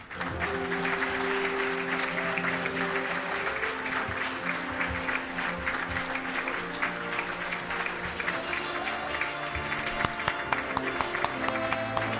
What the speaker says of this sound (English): How about a big round of applause for my mission commander, Vance Brandt